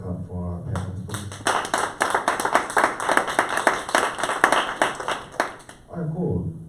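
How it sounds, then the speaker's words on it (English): An audience claps for a panel of speakers at a discussion on breaking the stigma around HIV, a dense run of sharp hand claps lasting several seconds, with voices audible at the start and end. "can we get another hand clap for our panelists"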